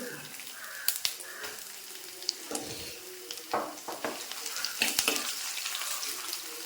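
Ginger and garlic hit a hot pan and fry with a soft, fairly faint sizzle, with a few scattered clinks and stirring scrapes, no voices.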